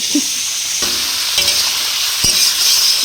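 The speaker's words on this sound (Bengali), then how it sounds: "এবার মাংসটা দিয়ে দিচ্ছি" Meat tipped into a hot pan with garlic for chicken curry, a loud continuous sizzle with a few sharp scrapes of stirring, no talking.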